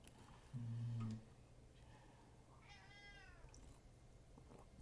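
A pet cat lets out one clear, fairly loud meow close by, lasting about half a second, followed by quiet room tone.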